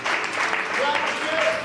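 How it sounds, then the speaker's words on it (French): A church congregation applauds during a French-language Easter sermon, a steady, sustained wash of clapping throughout, fairly loud and even, with faint voices mixed in. "Est-ce que tu peux acclamer la parole?"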